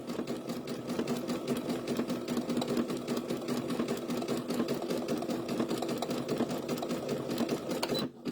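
A sewing machine stitches quilt blocks in a long, continuous, rapid whir, close and steady for about eight seconds before cutting off at the end.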